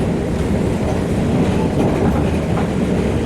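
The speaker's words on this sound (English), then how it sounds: "There's all the Amtrak trains." Amtrak trains rumble past in a city, a loud, steady roar with rail clatter, filling the whole stretch without a break and without voices.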